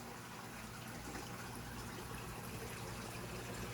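Water pours and gurgles steadily through a reef aquarium sump, a continuous close rushing flow with a low pump hum underneath and no talking.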